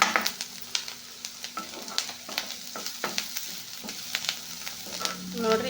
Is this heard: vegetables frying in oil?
yes